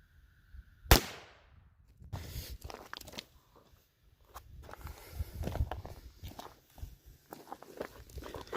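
A single sharp .22LR pistol shot fires a 32-grain Stinger hollow point into ballistic gel, a close, loud crack near the start, followed by quieter scattered handling and clatter noises.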